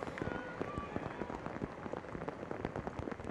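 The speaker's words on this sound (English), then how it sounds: "you are currently watching a very rainy day in Bridgeview" Rain pattering steadily on surfaces at SeatGeek Stadium in Bridgeview, Illinois, during a rainy NWSL soccer match, a dense fizzing of drops with faint crowd ambience beneath.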